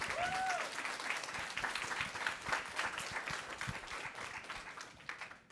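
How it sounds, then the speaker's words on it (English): An audience at a career prep professional development session gives a round of steady, fairly distant applause that swells, then thins out toward the end. "Can we give a big round of applause?"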